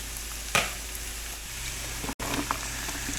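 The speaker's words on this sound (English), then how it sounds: "And then we'll add our vegetables to saute." Yellow and green onions sautéing in melted butter in a pan, with a steady loud sizzle that holds throughout and a brief clatter near the start.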